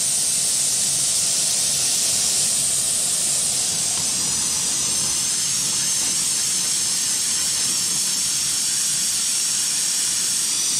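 A 10,000-watt electrolyzer torch running at about 25 amps and 250 volts produces a steady, continuous hiss close by that holds unbroken throughout.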